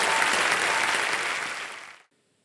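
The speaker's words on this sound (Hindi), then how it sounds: "तालियां बज जाए इनके लिए" A studio audience on a television quiz show breaks into dense, loud applause that holds steady for about two seconds and then stops abruptly.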